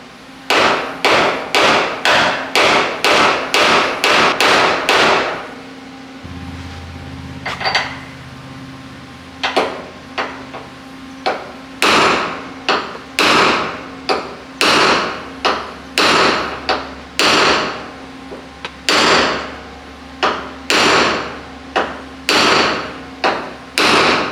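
Hammer blows dimpling a replacement roof panel on a Chevrolet C10 pickup, sharp metallic strikes in quick bursts, then a short lull with a low hum, then more rhythmic blows close and loud.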